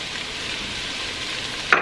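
Paprika and flour mixture frying in a pan, giving a steady, soft sizzle throughout with a brief louder scrape of stirring near the end.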